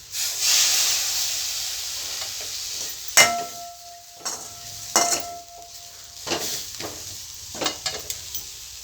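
Egg rice base frying in a pan with salt added, a steady soft sizzle and hiss running throughout, broken by several sharp clanks of a spoon stirring against the pan.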